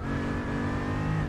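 Car drifting through a corner in Gran Turismo 4, a loud steady engine drone with harmonic whine held at constant level throughout, no voices.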